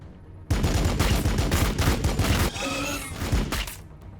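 Heavy armor in the strategy game 40k Battle Sector opens fire with a sudden loud volley of rapid, booming shots that hammer on steadily for about two seconds, then give way to a slightly softer, rumbling continuation with faint tones.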